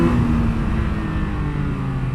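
A 2022 Triumph Speed Triple 1200 RR, a 175-horsepower motorcycle, roars steadily on a racetrack, its engine loud and sustained with a dense low drone throughout and no talk.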